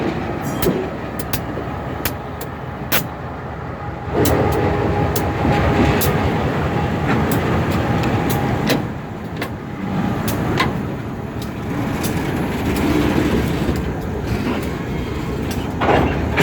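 An EMD SD38-2 diesel locomotive switches coal hopper cars in a rail yard, with a rumbling engine under sharp metallic clanks and clicks from the cars and couplers, fairly close and without talk.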